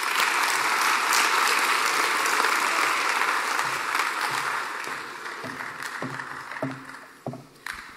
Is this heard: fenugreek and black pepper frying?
no